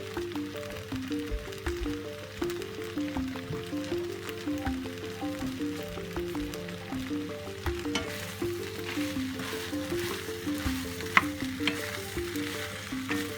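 Beef, fish, garlic and vegetables sizzling in a frying pan in a community kitchen, a continuous crackling fry with stirring scrapes, close and moderately loud, soft background music, no speech.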